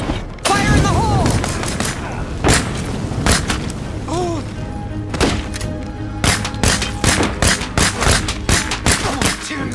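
A loud blast in State of Decay 2 opens a chaotic stretch of booms, thuds and rapid gunfire, with a voice shouting in the middle of the din.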